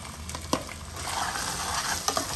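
Boiled chana dal frying in a pan, with a close, steady sizzle and a couple of sharp stirring scrapes.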